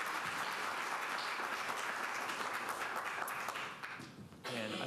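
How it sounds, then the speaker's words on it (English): Steady, full-room applause from a summit audience honoring healthcare leadership award recipients, a dense wash of clapping that continues throughout and dips slightly near the end. "I'd like for you to give me a round of applause for them as they accept the Leadership"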